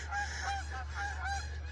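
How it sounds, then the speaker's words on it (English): Repeated honking bird calls, likely seagulls, sound in a quick rhythmic series over a steady low hum, moderately loud and fairly close, with no speech. "Oh no, that's seagulls."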